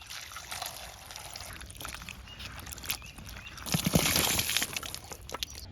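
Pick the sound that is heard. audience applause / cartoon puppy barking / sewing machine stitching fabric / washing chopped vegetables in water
washing chopped vegetables in water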